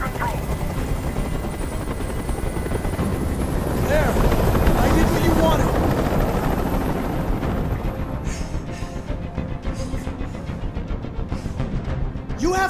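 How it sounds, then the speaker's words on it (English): A helicopter hovers overhead during a rooftop hostage standoff in the video game Detroit: Become Human, a loud, constant rotor thrum and whine lasting throughout, with dramatic voices speaking over it. "I can't stand that noise anymore. Tell that helicopter to get out of here."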